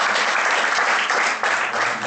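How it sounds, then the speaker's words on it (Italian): An audience at a talk on child health and vegetarian diet claps in a steady, dense round of applause, loud and even with no speech over it. "Salutiamolo con un applauso."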